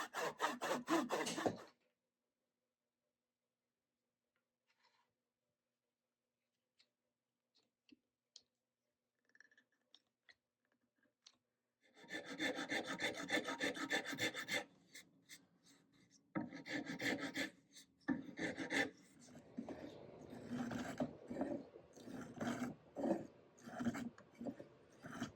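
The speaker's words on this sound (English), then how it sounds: "Here I'm using a 3D printed sanding stick" Bursts of scratchy rasping as wood on a double bass neck is sanded by hand with a sanding stick, short strokes starting and stopping after a long quiet stretch, fairly close.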